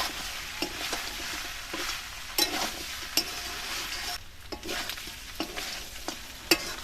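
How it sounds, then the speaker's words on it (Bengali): Local rooster chicken is stir-fried with fried potatoes and drumstick stems in a pan. A steady sizzle runs throughout, broken by repeated scraping strokes of the spatula. "আলু আর ডাঁটা দিয়ে আরো খানিকক্ষণ কষিয়ে নিয়েছি"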